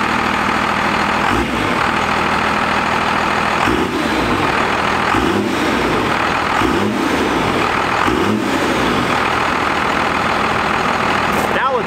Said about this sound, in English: Let's do another start up and rev with the tailpipe view.